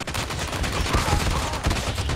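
Rapid automatic gunfire from an online shooter game crackles in dense, loud bursts of overlapping shots, with a brief faint tone partway through.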